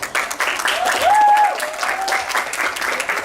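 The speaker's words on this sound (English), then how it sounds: "Give them a big round of applause for the sarongs." Audience applause at the SAISA girls football 2024 awards ceremony, a steady crowd of clapping hands with a faint whistle rising through it, sustained at full strength for a few seconds.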